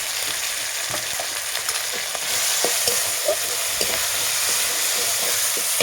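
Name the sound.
chili paste sizzling in a frying pan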